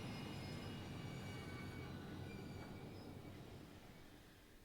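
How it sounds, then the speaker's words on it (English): A train in the video game Post Trauma rumbles loudly and continuously at close range, a dense roaring clatter that slowly fades toward the end. "Stop the train!"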